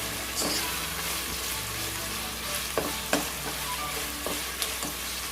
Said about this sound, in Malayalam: ഇതിലേക്ക് നമ്മൾ അരിഞ്ഞു വെച്ചിരിക്കുന്ന സവോള ചേർത്ത് ഫ്രൈ ചെയ്തെടുക്കാം